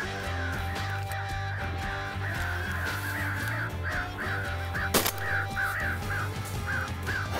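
Crows cawing repeatedly in a rhythmic series of harsh calls, moderately near, over a steady low background hum with one sharp knock partway through.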